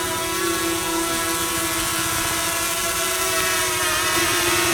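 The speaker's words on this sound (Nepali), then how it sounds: "यसरी क्लिक गरिसकेपछि हाम्रो ड्रोन फ्लाइट हुन्छ।" A steady high-pitched whine of a small drone hovering nearby, its buzzing propellers constant and fairly loud throughout.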